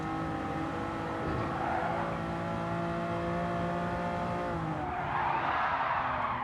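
A Lamborghini Countach in the Gran Turismo 7 racing game holds a steady engine drone, then its tires lose grip with a broad squeal and skid near the end, with no voices.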